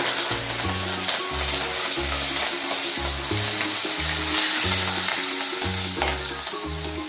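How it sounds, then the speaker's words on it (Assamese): Onions sizzle and fry loudly in a hot pan while being stirred, a steady bright crackle with rhythmic scraping and clunking from the stirring throughout, and no talking. "তাৰপিছত পিঁয়াজ দিছোঁ পিঁয়াজটো লৰাই দিয়া হৈছে"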